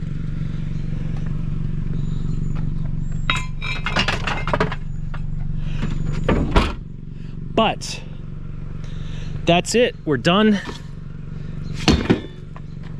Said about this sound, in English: my car is so noisy right now